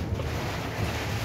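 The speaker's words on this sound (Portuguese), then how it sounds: "o vento soprando, puxando de baixo" Wind blowing hard during a sudden heavy storm with heavy rain and mud, a steady full-band roar of gusts buffeting close to the microphone throughout, with no talk.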